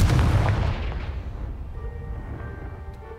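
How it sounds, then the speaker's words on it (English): A Confringo blasting spell fires a single loud, deep explosive boom in Hogwarts Legacy, aimed at a pile of rubble blocking a stairwell, which rumbles and fades away over a few seconds with no voices. "Only one way to find out. Confringo!"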